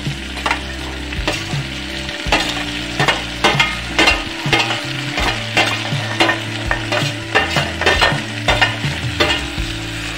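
Carrots, peas, tomato and cabbage for a mixed vegetable pulao sizzle steadily in a hot pan while a spatula stirs and scrapes them in a repeated, close-up rhythm, with no voices.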